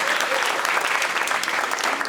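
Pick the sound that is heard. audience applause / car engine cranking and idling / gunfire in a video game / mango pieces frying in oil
audience applause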